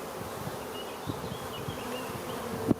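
Honeybees buzz inside an open hive, a continuous soft drone with a few louder passes near the microphone and a brief knock at the end.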